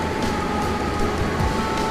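A New York City 6 subway train hums at the City Hall station platform, a steady low rumble with a faint electrical whine and no voices, fairly quiet and continuous.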